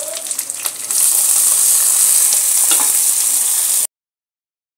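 Potatoes and vegetables hit a hot pan with a loud, close, constant sizzle after a few clinks at the start. The frying roars steadily for several seconds, then cuts off abruptly into silence.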